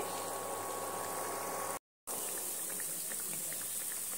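Semolina biscuits made with ghee frying in hot oil until red and crisp, a steady close bubbling sizzle with a brief gap of silence partway through, no voices.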